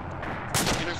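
Mortar fire in the video game Arma 2, a single sudden loud blast about halfway through that rings out with broad noise over a low rumbling background, close and sharp.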